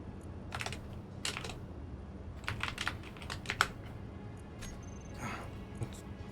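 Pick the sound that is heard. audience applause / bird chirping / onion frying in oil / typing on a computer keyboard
typing on a computer keyboard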